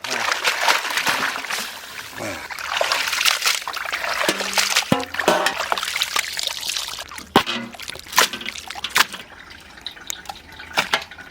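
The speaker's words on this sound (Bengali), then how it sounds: "মাংস ঢেলে দিলাম" Chicken being poured into a cooking pot for a village-style chicken curry, with wet trickling and sizzling splashes, a few sharp clanks of the pot and utensils, loud and close, continuing for several seconds.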